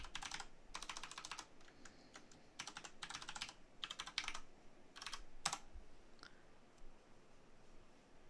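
A password is typed on a computer keyboard in quick, quiet bursts of clicking keys separated by short pauses, ending with a few single taps, with no talking.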